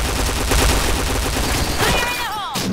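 Dense automatic gunfire from the shooter game Piercing Blow during a tournament match, rapid overlapping bursts rattling loud and continuous, with a brief whooshing sweep near the end.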